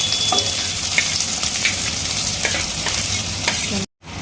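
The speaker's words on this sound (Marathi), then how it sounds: "कांदा आपण ब्राऊन होईपर्यंत फ्राय करून घेऊ" Finely chopped onion fries in a pan for a home-style chicken dish, a loud continuous sizzle with occasional stirring scrapes, ending in a brief cut to silence.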